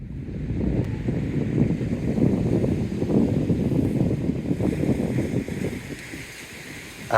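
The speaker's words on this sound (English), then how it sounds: "Maybe you can hear a little bit of waves." Waves wash along the shore by the water, a continuous close rushing surge mixed with wind buffeting the microphone, moderately loud and easing slightly near the end, with no talk.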